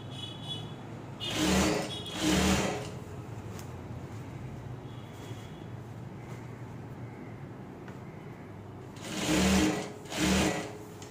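Two separate bursts of a sewing machine running stitches along the edge of shorts, each a close, whirring hum lasting about a second or two, with quiet pauses between them.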